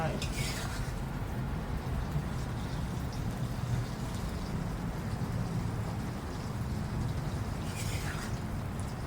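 Cooked insects are scooped from a pot into a waiting container, with scraping and light clinks of a utensil against metal over a steady background hiss, close and moderately loud.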